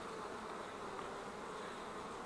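A continuous close drone of honeybees working inside a split hive among the frames, uniform in loudness with no voices.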